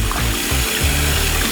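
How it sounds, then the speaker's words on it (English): Tap water runs into a kitchen sink as it fills for hand-washing dishes, a continuous splashing gurgle, close and steady, with no talking. "So I got some water in the sink."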